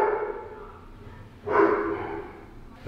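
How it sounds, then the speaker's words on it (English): A dog gives a loud bark heard nearby, a short burst midway after a stretch of quieter breathing-like background, followed by a faint trailing sound. "That's a loud bark, actually."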